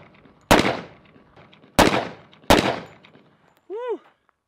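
Double-barrel 1911 pistol firing three sharp, loud shots about a second apart outdoors, each with a short decaying echo, followed by a brief rising-falling voice exclamation.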